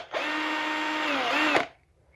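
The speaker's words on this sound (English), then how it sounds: "I will speed a lot of this drilling up" A power drill bores into a 1:64 scale diecast toy car, a steady high whine running nearly two seconds close up before cutting off abruptly.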